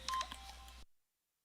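Short touch-tone telephone dialing beeps for a phone call, several quick tones in a row, close and clear, then the sound cuts to silence.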